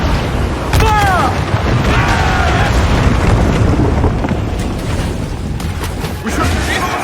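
Ship cannons fire in a naval battle in Assassin's Creed IV Black Flag, heavy booms and rumbling blasts over crashing noise, with shouting voices at the start.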